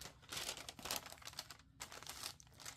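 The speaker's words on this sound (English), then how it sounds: "Put your parchment paper on top," Parchment paper crinkles softly as it is laid over a roll of toilet paper for iron-on customizing, a quiet, irregular rustling and crumpling close by with no speech.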